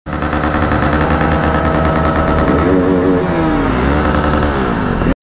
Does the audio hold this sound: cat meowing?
no